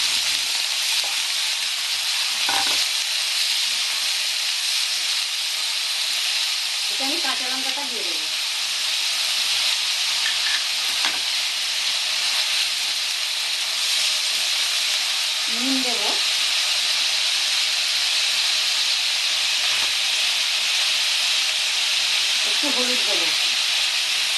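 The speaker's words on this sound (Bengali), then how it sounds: "জিরাটা ফুটে গেছে আমি এবার আলুটা দিয়ে দেবো" Potatoes hiss and sizzle steadily in hot oil with cumin seeds, Bengali style, a dense, even frying wash that stays loud throughout, with a few brief stirring or clinking touches.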